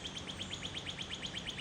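Birds chirping outdoors on a June nature walk, a rapid steady series of bright, high repeated chirps close by, with no talk.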